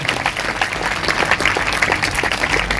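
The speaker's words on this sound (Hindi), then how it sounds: "सभी जोर से तालियां बजाएंगे।" A church congregation at a Sunday service claps loudly together, a dense, steady wash of hands filling the room from start to finish without a break.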